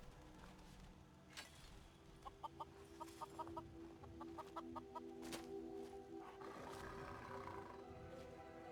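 Chickens cluck repeatedly while feeding at a game settlement, rapid short clucks in bursts over a low, steady background hum, moderately close.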